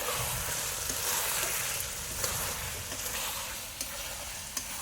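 Chicken kosha curry sizzles steadily in a pan while being stirred, a close, continuous hiss and crackle with occasional scraping clicks from the spatula.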